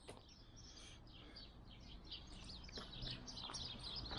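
Small birds chirp outdoors in the city of Akre, Iraq, with quick, high tweets repeating faintly over low ambient noise.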